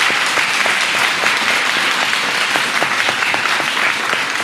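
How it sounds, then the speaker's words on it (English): A hall audience at a Japanese speech contest in Kenya gives a loud, dense round of applause for a contestant. The clapping is continuous and even throughout, with no voices above it. "I think he deserves the biggest round of applause"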